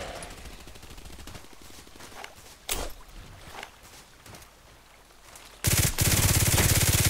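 Gunfire in the online shooter Contract Wars, on a lighthouse map: scattered distant shots and short bursts, then a loud, sustained burst of rapid automatic fire erupting close by near the end.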